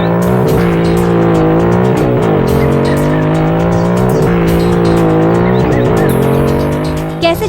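A car engine drones loudly and continuously as the car is driven fast, its pitch rising and falling with gear changes, close and with speech over it.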